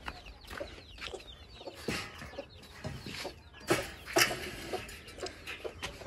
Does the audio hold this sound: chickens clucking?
yes